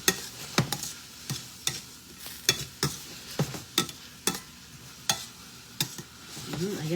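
Zucchini spaghetti cooking in olive oil, with a low sizzle beneath a regular series of sharp clinks and scrapes as a utensil stirs the pan, about a dozen taps in steady rhythm.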